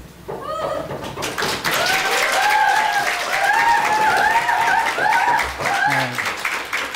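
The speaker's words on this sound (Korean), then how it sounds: "박수로 환영하시고" Church congregation applauding to welcome Pastor Oh Young-hwan at a Gwangju Seongeun Church praise service, a sustained, steady wash of clapping that swells and holds with a voice or singing tone carrying over it.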